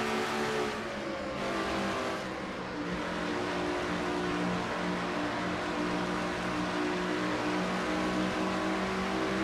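Onboard view of a Dodge Challenger stock car in an oval racing sim, its engine droning loud and continuous at high speed, steady pitch with slight shifts, no talk.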